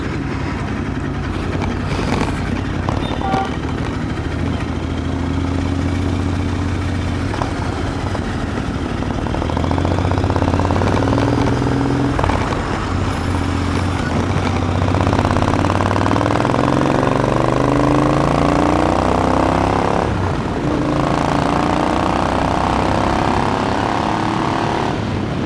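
Royal Enfield Interceptor 650 twin-cylinder motorcycle engine idling steadily for the whole stretch, a continuous mid-loud low rumble with slight shifts in tone and no talking.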